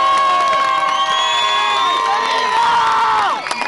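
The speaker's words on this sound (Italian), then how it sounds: "allora ascolta il nostro applauso un secondo" Protesters crowded into a square in Turin during a strike cheer loudly, with shrill whistles or horn-like tones ringing over the dense crowd noise all the way through.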